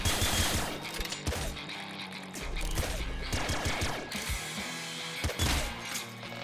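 A cookie launcher weapon fires in the video game Nuclear Throne, giving rapid, loud bursts of shots and crashing impacts over dense game effects and music.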